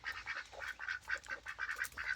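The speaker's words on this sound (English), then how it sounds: "Bring those ducks in." A small group of ducks being herded inside on a garden homestead quack in a rapid, repeated series, moderately loud and near, with little else around them.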